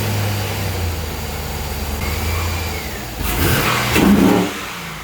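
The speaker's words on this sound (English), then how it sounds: "with this, you can definitely hear it when you rev it" A Pontiac G8 engine fitted with a Rotofab cold air intake idles with a low hum, then revs up sharply with a throaty intake roar near the end before settling back down.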